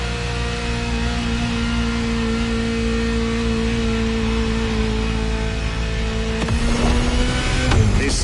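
A Ferrari sports car engine drones steadily in The Crew Motorfest, a loud sustained hum whose pitch shifts near the end as it revs.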